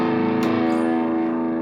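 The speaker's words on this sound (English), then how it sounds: "I'm going to put some distortion on my stack in the box" Distorted electric guitar from a Vintage V100 Les Paul-style guitar, played into a stack through distortion. It rings out as a sustained, harmonically rich chord with a sharp attack near the start, steady and loud.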